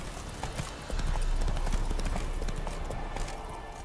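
Roach the horse gallops in The Witcher 3, rapid thudding hoofbeats in a quick, even rhythm, close and loud over low rumbling game ambience.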